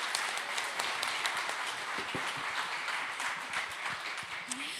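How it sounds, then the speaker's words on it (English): A group receives a round of applause from an audience, steady dense clapping with scattered louder claps throughout. "let's give this group a great round of applause"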